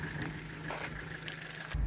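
Water runs steadily into a motorhome's fresh water tank, a continuous gushing flow with a low hum underneath, ending in a louder thump of noise.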